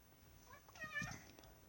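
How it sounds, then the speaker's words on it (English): A house cat gives a short, faint meow with a rising then falling pitch, fairly close in a quiet room. "Oh, there's my cat."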